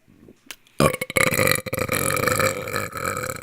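A loud, long burp blamed on vaping rumbles for about three seconds after a brief quiet start, close and raw with no talk over it.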